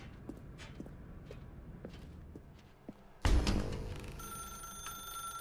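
In The Stanley Parable, faint footsteps pad along before a telephone suddenly starts ringing loudly nearby, its electronic bell tone sustained to the end with no speech.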